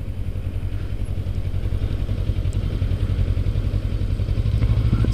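A Kawasaki Ninja 650R engine drones steadily while riding, a loud, close, continuous mid-pitched rumble with an even pulse and wind noise, with no talk.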